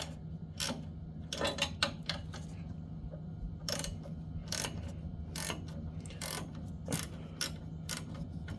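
Ratchet wrench being worked to take off a wheel, with clusters of sharp ratcheting clicks and pauses between them, close by and fairly quiet.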